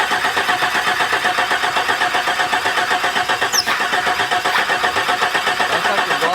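A car engine cranks and catches after fuel has been sprayed on it, then runs in a rough, pulsing idle that stays close and fairly loud throughout.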